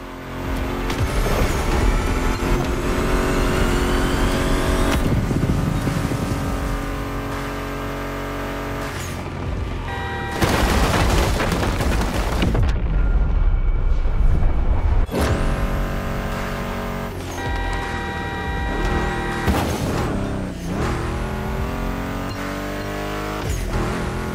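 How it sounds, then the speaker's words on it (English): Loud muscle car engines, including a Ford Mustang GT in the video game The Crew Motorfest, roar and rev repeatedly, pitch climbing with each gear shift, with brief drops between bursts of acceleration. "Meshes well with the sound of the engines"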